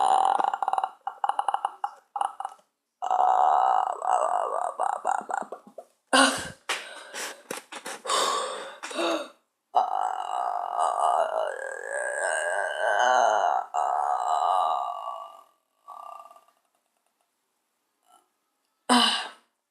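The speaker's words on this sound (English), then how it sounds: "this is the longest burp that I can do" A long, loud human burp stretched out in several drawn-out, rumbling surges over nearly twenty seconds, with brief gaps and a final short belch, close and alone with no talk.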